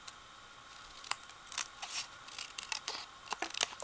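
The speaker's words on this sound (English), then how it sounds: "Now I'll come back, I'll trim off" Scissors trim the edges of a paper card, a series of quiet, close crisp snips and clicks coming irregularly, louder toward the end.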